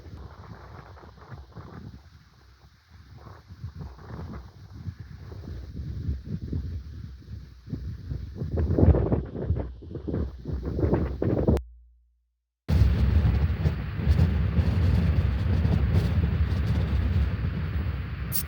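Strong wind buffets a car parked on a cliff at night, a continuous roaring rumble with gusty surges inside the cabin, broken by a brief drop to silence before the blustering resumes.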